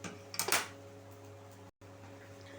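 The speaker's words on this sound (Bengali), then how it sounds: "গ্যাসের ফ্লেমটা আমি এখন বন্ধ করছি না, আবারও 2 মিনিট ধরে একটু নাড়িয়ে নেব।" Flattened rice pulao stirred in a pan over a gas flame gives a short burst of metal scraping and clinking near the start, followed by a low steady hum.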